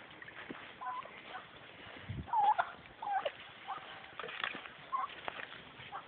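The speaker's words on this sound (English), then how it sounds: "So a lot of people have never seen wild turkeys or just turkeys in the farm, but this is what they look like." Turkeys gobble on a tropical farm, several short calls near and far over faint rustling and background patter, with no voices heard.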